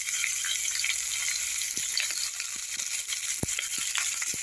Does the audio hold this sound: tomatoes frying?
yes